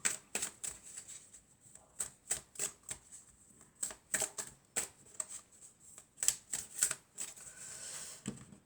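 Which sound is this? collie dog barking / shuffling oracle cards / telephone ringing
shuffling oracle cards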